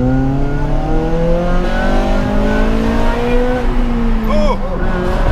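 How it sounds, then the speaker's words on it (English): A Honda FN2 Civic Type R with a Japspeed cat-back exhaust accelerating, its loud, steady engine rumble rising in pitch through the gear from inside the car. "It's not drony. It's a nice rumble. It's a proper rumble sort of."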